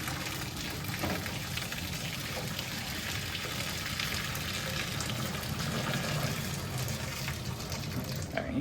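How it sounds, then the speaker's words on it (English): Hot pasta water pours steadily out of a pot through a narrow gap under the lid into a sink, a continuous close splashing rush with no break. "I take this and I move it like this, so there's a tiny little crack to let water out."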